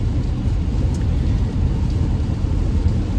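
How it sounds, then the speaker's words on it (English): A car driving along the road in the rain, heard from inside as a constant low road rumble and tire hiss, steady and fairly loud throughout with no talking. "We're on the road in the rain."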